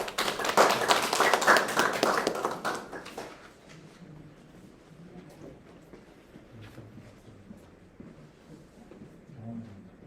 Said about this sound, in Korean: 간단한 박수 한번.